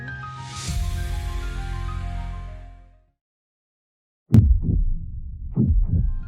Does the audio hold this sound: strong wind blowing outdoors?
no